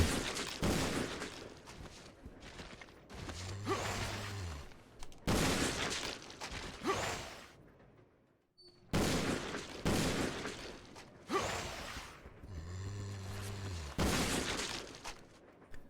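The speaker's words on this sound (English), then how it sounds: "we're going to begin our zombie shooting gallery" Gunfire in the video game Resident Evil Zero as zombies are shot: loud, sharp bursts of rapid shots in repeated volleys separated by brief pauses, with crackling impact effects.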